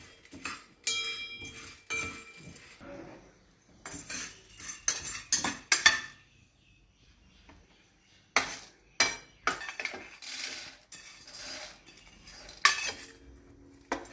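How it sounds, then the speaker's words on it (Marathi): Whole spices such as cloves, peppercorns and lump asafoetida are dry roasted without oil over low heat in a pan for sambar masala, producing intermittent bursts of a utensil scraping and clinking against the metal, with quiet gaps between stirs. "हे सगळे जिन्नस कोरडं भाजून घ्यायचे मंद आचेवर"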